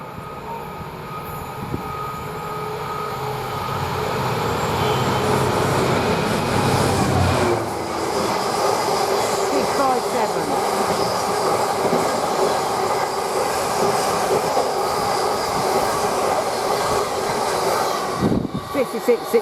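A Freightliner freight train from Newbiggin to Tees Yard passes through Durham railway station, a loud, sustained rumble of wagons rolling by with steady clatter and some wheel squeal, building at first and holding steady for the whole span.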